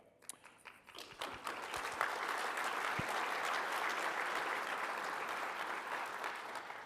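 Conference audience applause at a tech session on identity management, starting with a few scattered claps and swelling into sustained, even clapping from a large room.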